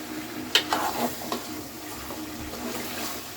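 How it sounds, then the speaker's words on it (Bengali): Meat curry with potatoes being stirred in a pan just after a little water goes in, giving a soft wet sizzle with a few clinking spoon strokes early on, then a quieter simmer. "এতে এভাবে অল্প একটুখানি সামান্য জল দিলাম, দিয়ে নাড়িয়ে নিচ্ছি আমি।"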